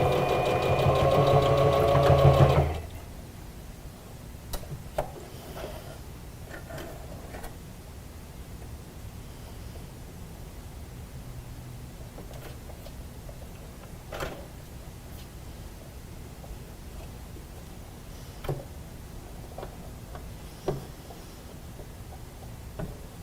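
A sewing machine stitches a fabric Olson face mask in a loud, fast whirring burst lasting a few seconds, then stops, leaving a quiet room with scattered faint clicks and taps.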